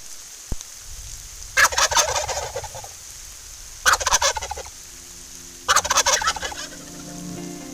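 Wild turkey toms gobble in three loud, rattling bursts spaced a couple of seconds apart, outdoors on a ridge during a spring hunt, with quiet gaps between calls.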